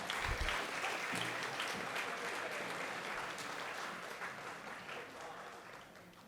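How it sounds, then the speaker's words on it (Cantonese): An audience claps at a secondary-school graduation ceremony in a hall, a dense, sustained round of applause from many hands that slowly fades over several seconds. "我哋都用掌聲咧，再次恭賀得獎嘅同學。"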